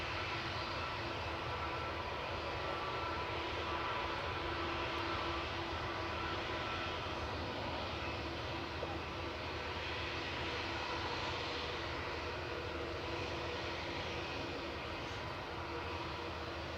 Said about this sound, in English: Next up for departure is Lufthansa with their 28-year-old A321 heading back to Munich with flight 2501.